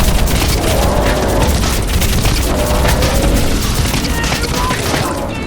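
Sustained heavy gunfire and explosions in the Crysis Remastered video game, a dense, loud barrage of rapid shots and booms with no pauses, and voices shouting over the firing.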